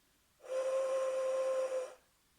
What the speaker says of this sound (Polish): czy też dmuchanie w takie dmuchajki, jak ja mam